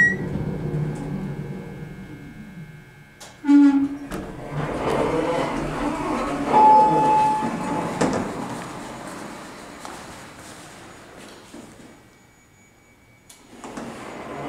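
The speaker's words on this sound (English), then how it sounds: "This was modded, that motor sounds original. Love the noise of the startup." The original motor of a modernized traction elevator in a historic building starts up with a sudden thump, then hums and whirs steadily for several seconds before winding down, with a brief tone sounding partway through.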